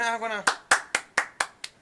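Six sharp hand claps in a slow, steady rhythm, following a brief stretch of voiced sound at the start.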